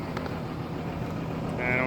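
A tractor runs an ag bagger that is packing corn silage on a farm, giving a steady, loud engine drone with a rough, windy edge that holds constant for the whole short stretch.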